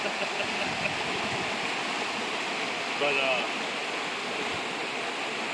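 Steady, loud rush of deep creek water pouring through a Missouri conservation area, a continuous broadband roar with a person briefly speaking over it.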